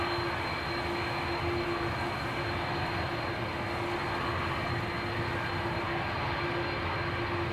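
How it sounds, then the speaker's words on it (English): A Turkish Airlines jet bound for Istanbul departs Amsterdam Schiphol, its engines a loud, steady roar with a sustained tonal whine held evenly across the whole stretch, heard alone without talk. "Turkish Airlines flight 1952 to Istanbul."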